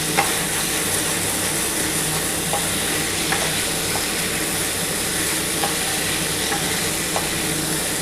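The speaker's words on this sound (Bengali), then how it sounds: "তার জন্য একটু ভালো করে মশলাটা কষিয়ে নিচ্ছি" A paste of ground ginger, tomato and whole cumin sautés in a pan, giving a dense, steady sizzle with faint scraping stirs now and then, close and without speech.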